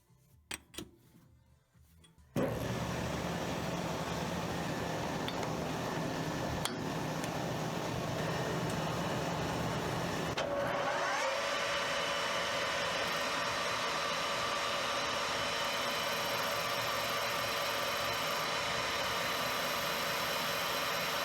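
A metal lathe starts up after a short quiet stretch and runs steadily while turning a piece of steel for a central shaft in a small workshop, a loud continuous motor whine that shifts in tone about halfway through.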